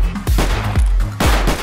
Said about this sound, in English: this mod also has nice gunshot sounds